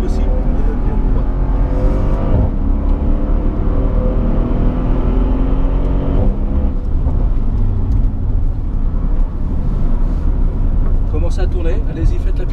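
Mercedes SL 63 AMG driving a race circuit at La Ferté-Gaucher, a loud continuous engine roar with shifting pitch and occasional surges, recorded from inside the car.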